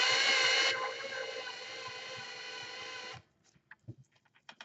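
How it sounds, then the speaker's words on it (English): A power drill spins wire pinched in pliers to twist it for a model tree, a high steady whine that drops slightly in pitch and then stops after about three seconds, followed by light handling clicks. "we're going to pinch the wire again with our pliers, and we're just going to spin the drill again then"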